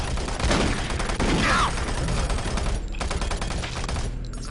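Pistol gunfire in the video game Doom 3, loud close shots and rapid bursts packed together over a dense, noisy game soundscape, continuous throughout without a pause.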